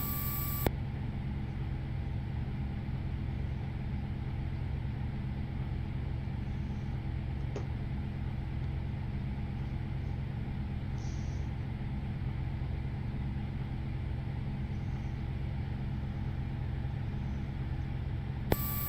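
An aircraft pushback tug's engine runs steadily beside a JetBlue airliner at the gate in Las Vegas, a constant low rumble with a faint high whine that holds unchanged throughout, with no talk.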